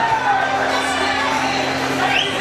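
Spectators at an Australia versus USA junior middleweight kickboxing event cheer and shout in a steady, loud crowd roar, with scattered whoops rising above the din over a couple of seconds.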